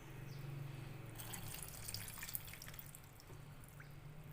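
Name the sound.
water being poured into a small rice cooker pot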